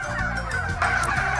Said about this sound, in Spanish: Acá ya escuchamos el sonido de todos los pavos que, bueno, van a estar a la venta en muchos mercados de Lima